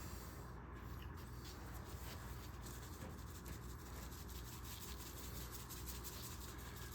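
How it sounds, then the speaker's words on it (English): Spice rub being rubbed by hand onto chicken for Cajun cast iron cooking, a steady, soft, close-up scuffing and rubbing texture that continues without pause at low volume. "I try to get rub on everything"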